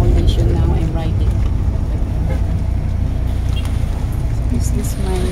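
Loud, continuous engine drone and road rumble heard from inside a moving jeepney in Davao City, steady throughout with faint rattles on top.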